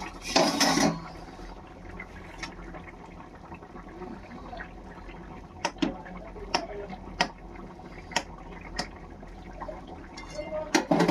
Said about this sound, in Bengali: ঢাকাটা খুলে দেখি